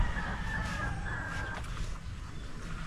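A chicken or rooster calls amid steady low rumble and outdoor clatter, the bird sounding moderately close for a couple of seconds before fading into the background noise.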